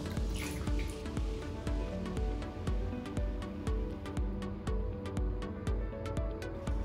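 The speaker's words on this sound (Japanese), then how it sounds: "優しく全体的になじませながら洗っていきます。" A cotton tent is hand-washed in a tub of lukewarm water with mild detergent, giving a close, rhythmic squish and slosh about once per second as the wet fabric is pressed and worked.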